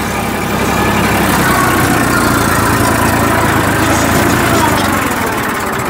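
A tractor engine drives a rotavator through hard, dry field soil, producing a loud, steady mechanical roar and rumble that runs continuously without pause.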